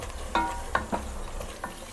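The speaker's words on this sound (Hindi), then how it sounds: "इतना सा ब्राउन करके फिर इसके अंदर ये चिकन डाल देना है।" Chicken pieces stirred into lightly browned onions in a pan while making palak gosht, with a few distinct scraping stirs over a soft background sizzle, close and moderately quiet, no voices.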